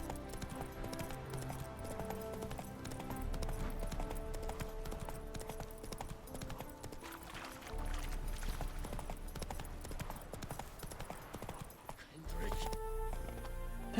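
Horse hooves clip-clop steadily in The Witcher 3 as the horse trots and pauses, under game music and a player talking throughout.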